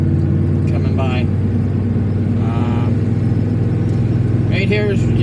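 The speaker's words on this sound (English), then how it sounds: "I have a Marion Township truck coming by." A Marion Township truck drives past on a Jacksonville road, its engine hum rising and holding steady close by, with a person talking over it.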